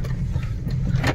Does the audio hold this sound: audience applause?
no